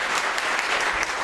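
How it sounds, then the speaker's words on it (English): Audience applauding music teachers at a Christmas event, a dense, steady patter of clapping filling the whole moment with no voices over it. "Yes, please, it's okay to applaud"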